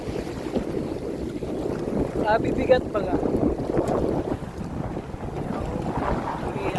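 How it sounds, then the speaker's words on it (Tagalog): Water sloshes and wind buffets the microphone steadily as a small boat rocks, with voices speaking briefly over the continuous rumble. "Ito ano yung indayog ng bangka."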